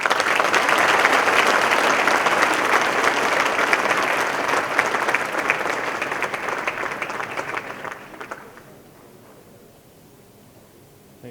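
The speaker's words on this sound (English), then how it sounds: "A huge round of applause for him." An audience applauds a guest speaker at a careers talk on the civil services, a full, steady wash of clapping for about eight seconds before it fades to quiet room tone.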